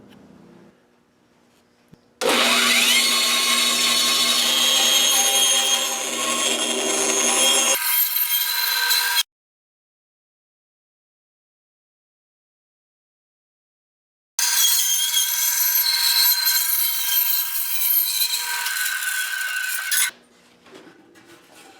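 A power tool cuts a 20-inch wooden circle for a DIY wall clock, giving a loud, close, rasping sawing whine in two long passes with a silent gap between them.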